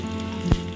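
Black cumin seeds and slit green chillies dropped into hot oil, a brief close sizzle that swells sharply for a moment and fades over a steady low background hum.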